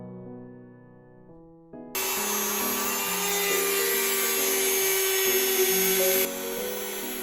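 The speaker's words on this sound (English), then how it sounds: "Let's begin the process of chamfering using the power router." A power router chamfers the corners of small wooden backgammon doubling cubes while a dust collector runs, a loud steady high whine starting abruptly after a quiet tonal intro and holding for several seconds before dropping off near the end.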